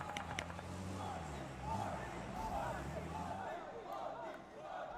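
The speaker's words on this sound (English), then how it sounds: "the arena here at the Qiddiya City Grid starts to roar" Arena crowd roaring through a PUBG Mobile esports match at the Qiddiya City Grid, a steady, dense wall of cheering and shouting that swells and holds for several seconds while commentators talk over it.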